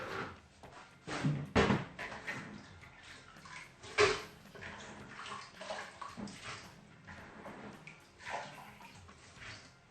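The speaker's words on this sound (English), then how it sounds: "this beans, I'm going to put it in a sieve so that all the water will drain out" Water draining from cooked beans poured into a sieve in a home kitchen while making Nigerian moi moi, a running, splashing flow with a few clattering knocks, no talk.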